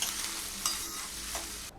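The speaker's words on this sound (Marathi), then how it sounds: "सर्व भाज्या 15 मिनिट चांगल्या तेलावर परतून घेऊया" Mixed vegetables and peas for hara bhara kebab fry in oil, a soft continuous sizzle broken by a few scraping stirs of the spoon in the pan. No voices.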